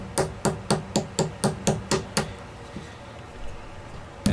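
A hammer strikes a short cut piece of 3 mm dowel rod to quarter it at a guitar restoration bench: about nine crisp, evenly spaced taps in quick succession, then near silence.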